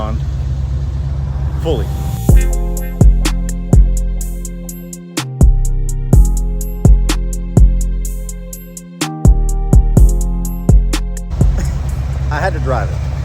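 A 1969 Camaro on brand-new wheels drives past in rhythmic bursts, engine note repeatedly swelling and dropping in loud close waves, with brief talk at the start.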